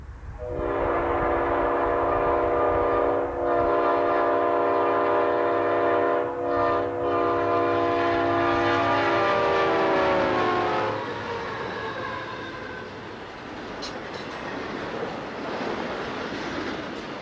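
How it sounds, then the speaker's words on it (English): Norfolk Southern piggyback freight train 220, led by a former Norfolk and Western GE C30-7 diesel, passes at track speed in Liberty, South Carolina, its loud air horn sounding in long blasts before the rumble of the cars rolls on steadily. "to record Piggyback Train 220 at track speed"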